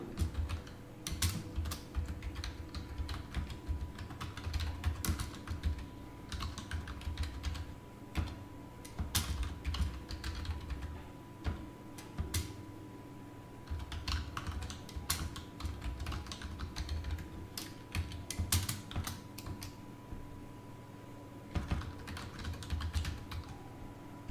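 Rapid computer keyboard typing while code for a C for loop is entered, a continuous run of close, crisp keystrokes with brief pauses, steady throughout and no talk.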